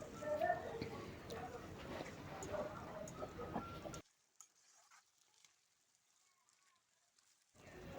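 Duck meat sizzling and frying in a pan while being stirred, steady crackle for about four seconds before dropping to quiet background, then returning faintly at the end; a voice speaks over it.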